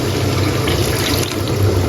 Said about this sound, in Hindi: ये हमने एक बाउल में डाल के उसके अंदर लिक्विड डाला है पानी और उसके साथ मिक्स करके भी डालेंगे हम